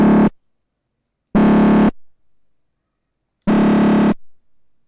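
An FM synth patch in FL Studio with its asymmetric curve reversed plays three loud, buzzy sustained notes separated by silences, each note cutting off sharply with a short decaying tail.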